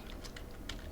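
Quick keystrokes on a computer keyboard as a name is typed into a form, a short burst of light clicks, close and quiet.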